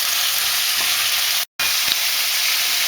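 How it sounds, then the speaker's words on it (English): Carrots in butter fizz steadily in a pan with a loud continuous hiss, broken by a brief silence midway and a couple of faint scrapes of a spoon stirring through. "So just give that a stir through."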